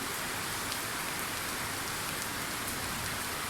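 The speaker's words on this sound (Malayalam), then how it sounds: "നല്ലൊരു മഴ വന്നു കേട്ടോ വൈകുന്നേരം ആയപ്പോഴത്തേനും" Steady evening rain falls in a Kerala home setting, a dense even hiss of drops on surfaces with no pauses and no voices.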